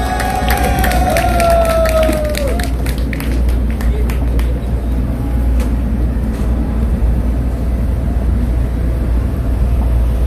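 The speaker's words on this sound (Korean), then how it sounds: "우리 대령연합회 이치훈 회장님의 연설을 큰 박수로 청해 듣겠습니다" Outdoor political rally crowd cheering and clapping in a steady, loud wash that lasts throughout, with a whistle-like tone sliding early on and scattered claps over a low rumble.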